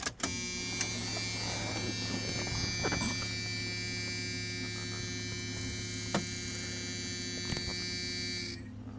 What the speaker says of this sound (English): turn it on with the electric fuel pump and see if gas just comes a gurgling out